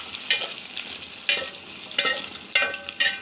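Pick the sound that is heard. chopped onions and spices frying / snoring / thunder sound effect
chopped onions and spices frying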